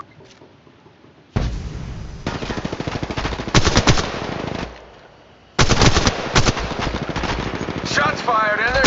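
Automatic weapon fire in the Apex Legends battle royale game comes in long, loud sustained bursts with a pause between them, with brief snippets of in-game voice and effects mixed in.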